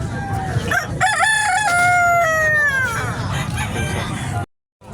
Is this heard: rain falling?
no